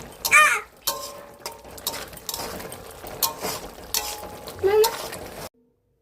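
Food being stirred in a pan just before it comes off the heat: intermittent scraping and clinking strokes of a utensil against metal with light sizzling underneath, then sudden silence.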